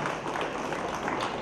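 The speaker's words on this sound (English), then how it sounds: "Can I have a big round of applause for all of you" Guests at a Catholic wedding reception in Bangalore applaud together in a short burst of full, dense clapping from a large crowd in the hall.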